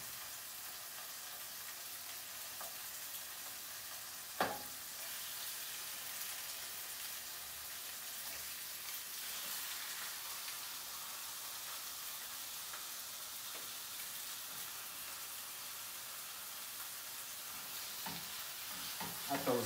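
Food sizzles steadily in a hot pan, a continuous crackling hiss that stays even throughout, with an occasional brief clink or scrape.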